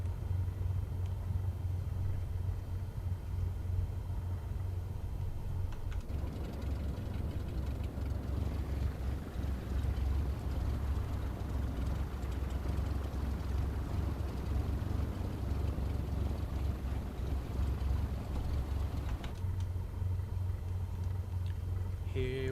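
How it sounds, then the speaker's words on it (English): A flight simulator game aircraft taxiing on a runway, its engine giving a steady low rumbling drone that swells louder through the middle stretch and settles back toward the end, with no talk over it. "Here we go, a taxiing down the runway"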